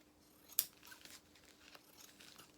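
Scissors snip through felt for doll clothing, a few soft close crunching cuts with one sharper snip near the start, faint and without speech.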